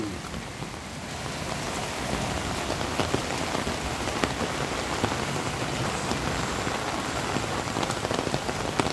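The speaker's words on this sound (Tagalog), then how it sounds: "lakas ng ulan" Heavy rain falls by a river in a constant roar, dense drops drumming on surfaces with occasional sharper splashes.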